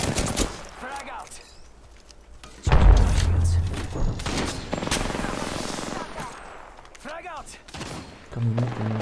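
A frag grenade in Apex Legends bursts with a loud, deep boom partway through, set among a busy firefight of gunfire and impacts, with voices calling out over the action.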